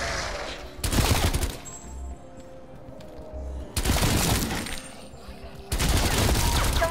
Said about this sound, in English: shooting at me. I think it's IO guard.